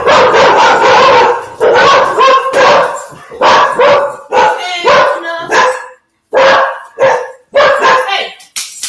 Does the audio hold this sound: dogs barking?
yes